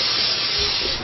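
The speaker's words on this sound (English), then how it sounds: "We'll put a little spray in there" A can of Pam cooking spray hisses steadily into a bowl in a home kitchen while cooking noodles, a continuous close, fairly loud spray lasting about a second with no talk over it.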